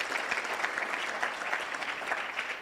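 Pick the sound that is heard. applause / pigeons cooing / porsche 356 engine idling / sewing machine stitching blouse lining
applause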